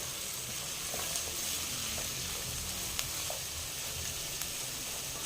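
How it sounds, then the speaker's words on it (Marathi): Vegetables for Bhogi bhaji sauté in generous oil in a pan, giving a steady, close hiss of sizzling with faint occasional stirring clicks and no talk. "तेलात छान परतून घेऊया म्हणजे थोड्याशा नरम करायच्या"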